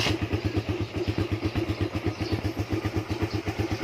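A Raider 150 motorcycle engine idles steadily after a cold kickstart, a close, even, rapid thumping putter that holds its rhythm throughout with no voices.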